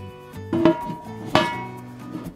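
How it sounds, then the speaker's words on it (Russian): A frying pan is set down onto a stove while borscht is being cooked in a kazan, giving two distinct metallic knocks, close and fairly quiet. "Ставим сковороду."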